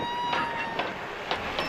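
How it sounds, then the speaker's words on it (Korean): A red handmade British-built train pulling into a station at a theme park in Jocheon, Jeju, with rumbling wheels and rhythmic clacks over the rails and a faint thin squeal, fairly close and steady. "마침 멀리서 빨간 기차 한 대가 들어옵니다."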